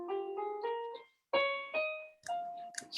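Piano notes in a minor phrase in the Aeolian mode, sustained chords and single tones ringing out with a short gap, played clearly with no talking.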